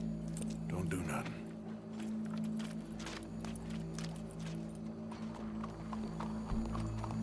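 Horse hooves clip-clopping steadily on the ground in the Western video game Red Dead Redemption 2, with a constant musical or ambient bed underneath and a short louder low thud near the end.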